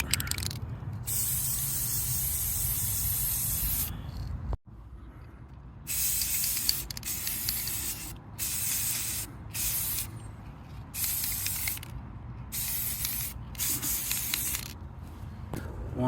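An aerosol can of all-in-one paint primer sprays onto a pot in repeated hissing bursts of varying length, close and loud, with short pauses and light rattling between passes.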